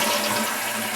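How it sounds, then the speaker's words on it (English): A toilet flushes loudly and close by, with the tank stopped partway while it drains. Water rushes in a continuous gurgling roar through the whole moment. "I'm going to have to give it a flush, and I'm not even going to let it flush all the way"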